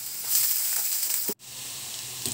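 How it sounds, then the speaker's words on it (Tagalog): Onion and garlic sautéing in olive oil in a pan, a steady close sizzle with a brief cutout midway and a faint clink near the end, with no voices. "Magisa na tayo, gagamit tayo dito ng olive oil, sibuyas at bawang"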